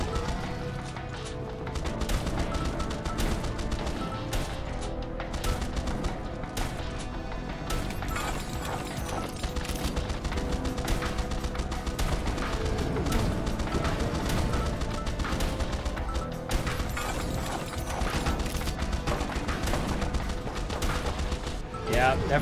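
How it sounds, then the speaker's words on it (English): A maxed-out Gatling gun fires in Swarm Grinder as dense, rapid mechanical bursts rattle almost continuously under game music and effects, loud and busy throughout. "I think we fully maxed out the Gatling gun."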